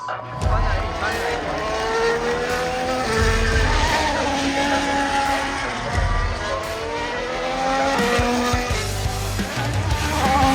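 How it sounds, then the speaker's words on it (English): Formula 1 race cars lapping the Imola circuit, engines rising and falling in repeated passes at mid distance with sweeping pitch changes, while people talk over the racket nearby. "Well, another pole for Max."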